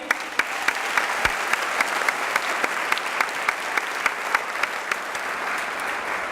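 A school audience gives a big round of applause for 10th and 11th grade academic achievers, a steady roar of many hands with a few louder, closer claps standing out at regular intervals.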